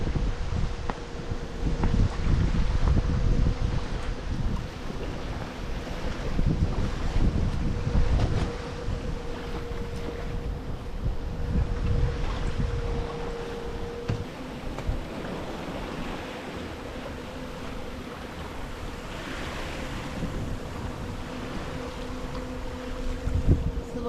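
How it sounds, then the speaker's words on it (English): Steady wind roars across a sailboat under way at sea off Newfoundland in winter, with sails set wing on wing and the ocean calm, buffeting the microphone in continuous gusts with a faint tonal hum beneath, no talking. "A little bit of a difficult wind today."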